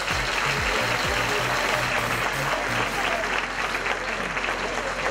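Applause from an audience at a public event with a regional governor in Atlántico fills the clip as a steady, dense wash of clapping, with faint voices and a low hum beneath it.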